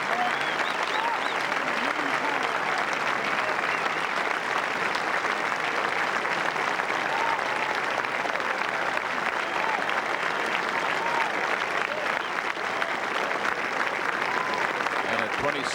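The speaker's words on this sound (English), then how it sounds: "Great applause." The gallery at the 1988 Masters golf tournament breaks into sustained applause, a dense, continuous roar of clapping heard from a distance that holds steady throughout, with faint crowd murmur mixed in.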